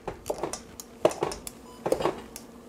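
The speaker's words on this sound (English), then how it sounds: "I'm just about done with cutting the butter into the flour mixture" Butter being cut into a flour mixture for a Burns Night crumble, a series of soft scraping clicks and light utensil-on-bowl knocks at an irregular rhythm, close and quiet, with no voices.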